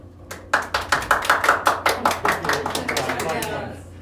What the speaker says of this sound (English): Laughing or smiling, stand and applaud.